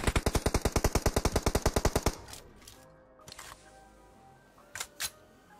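Rapid automatic gunfire in the PUBG Mobile video game rattles out in a fast, even burst of about twenty shots, followed by a few scattered, fainter single shots.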